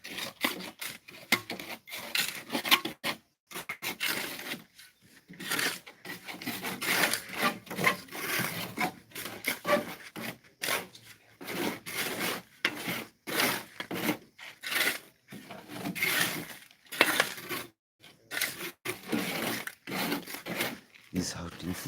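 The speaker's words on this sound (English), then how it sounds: "Right now they're just mixing the sand." Sand and cement being mixed by hand on a building site, a steady run of gritty scraping and rubbing strokes with short pauses, heard alongside people talking.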